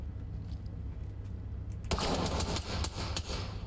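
Gunfire erupts in the tactical shooter game Ready or Not, a burst of rapid shots that starts abruptly and continues over a low steady background hum.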